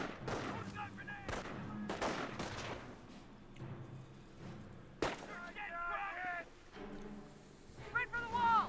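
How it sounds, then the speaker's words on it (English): Infantry gunfire from a Company of Heroes battle: several sharp bursts and cracks spaced through the stretch, with clustered rapid shots near the start and middle, heard alongside voiced unit callouts and game effects. "Ground infantry is firing on us!"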